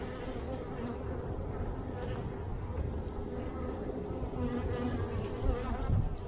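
Honey bees drone in a dense, continuous buzz close by during a February hive inspection, with a steady loud hum throughout.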